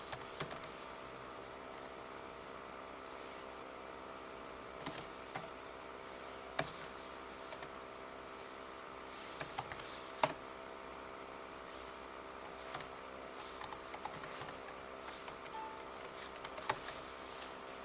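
Data is entered on a computer keyboard in short, scattered bursts of faint key clicks against a quiet background hum, with no talk.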